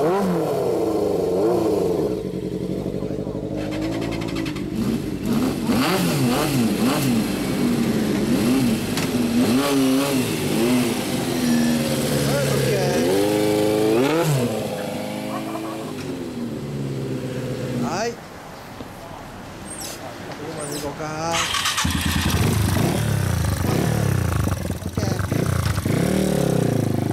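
Several motorcycles, including a Repsol CBR250R and a 1997 ZRX400, rev and idle close by, their engines rising and falling in repeated throttle blips while people talk over the noise.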